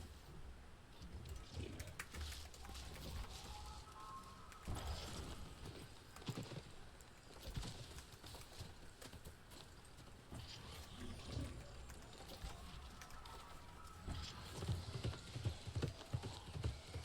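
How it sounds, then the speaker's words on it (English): Hooves clip-clop rapidly in a video game horse race, a quick continuous galloping patter that stays fairly quiet under occasional talk. "I'm in a horse race."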